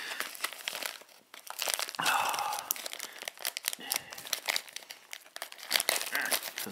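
Plastic bag from a French-style MRE ration being wrestled open by hand: dense, irregular crinkling and crackling with occasional tearing, close and continuous.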